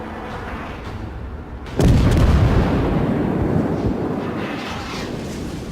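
A heavy naval gun blast from a World of Warships battleship engagement hits at about two seconds, a loud deep boom that rolls and rumbles away over several seconds, with a steady low battle drone before it.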